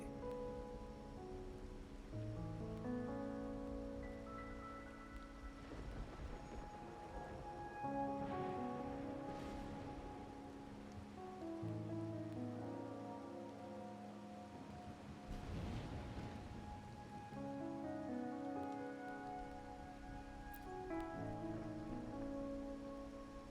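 Rain falling at night in the video game Wuthering Waves, a soft steady patter under sustained musical tones, faint and continuous with no voices.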